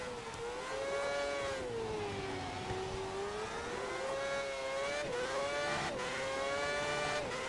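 A Formula One car in the racing game F1 2010 holds a loud, steady engine whine that rises and falls with shifts and throttle changes for the whole stretch, with tyre noise underneath.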